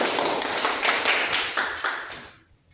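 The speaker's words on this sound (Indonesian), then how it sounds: "Tepuk tangan dulu" A group of children in an Indonesian classroom clapping their hands together in a quick burst of rhythmic claps that fades out, close and moderately loud.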